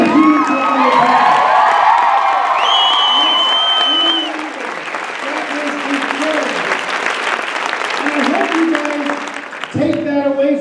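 A large audience at a Beachbody event bursts into loud, sustained applause, with cheers and whoops mixed into the dense clapping for about ten seconds, and voices rise above it now and then.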